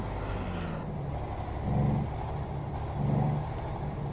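A modded truck in American Truck Simulator idles with a steady low engine drone, and two brief air-brake hisses or swells rise over it, alone without talk.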